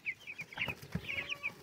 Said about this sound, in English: Right now they're playing chicken football